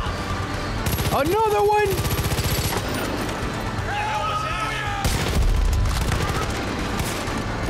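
Rapid gunfire from guns in Far Cry 5, with loud, close bursts of automatic fire and heavy recoil, mixed with in-game shouts and a player speaking over the shooting.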